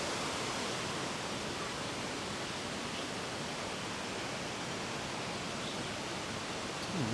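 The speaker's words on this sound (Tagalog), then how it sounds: "Wulay Waterfalls." Wulai Waterfall in Taiwan, a steady broadband roar of rushing water, continuous and even throughout, heard alone without talk.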